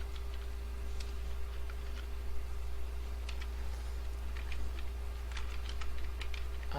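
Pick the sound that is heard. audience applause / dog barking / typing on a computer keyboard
typing on a computer keyboard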